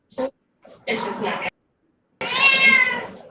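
Cats meowing in short bursts, one brief call then longer drawn-out meows, with a sustained loud wailing cry at the end, close by indoors amid people talking.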